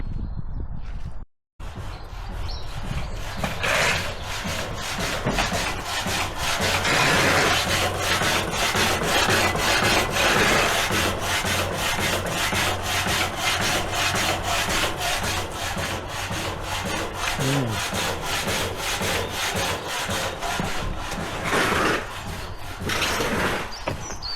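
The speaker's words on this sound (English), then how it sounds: "used the hacksaw, so they're all really nice clean cuts" A hand hacksaw cuts metal pieces for a trailer bed in a long run of steady, rhythmic back-and-forth rasping strokes, loud and close.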